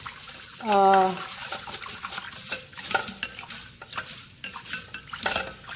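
Rice being washed by hand in a pot of water while preparing stuffed cabbage, with close stirring, swishing and clinking against the pot, plus a short tonal scrape of the pot early on.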